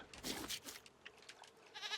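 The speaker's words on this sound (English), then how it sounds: "Wait, how many goats do we have?" Goats in the survival video game Raft give a couple of short, faint bleats close together, with no talking.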